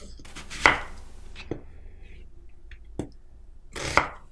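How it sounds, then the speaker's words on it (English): A knife chops onions on a board in a few sharp, separate strikes with quiet gaps between them, close and clear with no talking. "Now I'm going to cut the onions."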